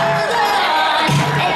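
A pro wrestling arena crowd cheers and roars in a steady, dense wash of noise, with a few voices rising briefly above the din.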